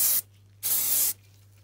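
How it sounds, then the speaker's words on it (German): Spray adhesive hisses from a can onto foam balls in two close bursts, a short one followed by a longer one of about half a second, with a faint steady hum underneath. "dann sprüht ihr eure Kugeln ein. Mit Sprühkleber natürlich."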